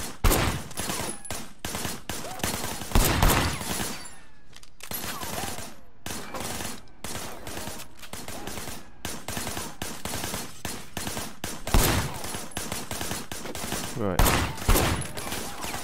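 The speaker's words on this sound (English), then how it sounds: "I want you to put some bullets in a few things." Gunfire from the Sleeping Dogs video game, a shootout from cover behind a barricade, with dense bursts of shots through most of the stretch and louder volleys near the start and end, under occasional brief talk.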